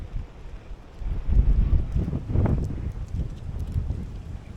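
Strong wind on a hilltop buffeting the microphone in loud, gusty low rumbles that rise and fall, close and unbroken, with no talking.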